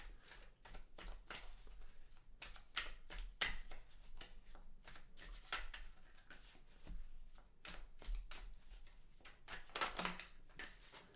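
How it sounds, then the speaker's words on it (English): Tarot cards are shuffled and drawn in quick, soft, papery riffles and flicks. Close and fairly quiet, the rhythmic bursts run steadily from start to finish with no voices. "We're just going to draw some tarot cards for this group."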